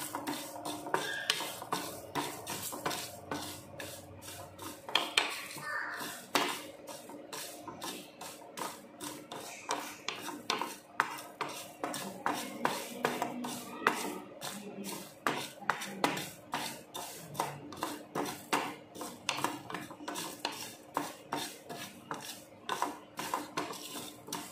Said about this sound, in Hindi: और ये जीरा। इसको लो फ्लेम पे हमने 5 मिनट्स के लिए ड्राई रोस्ट करना है।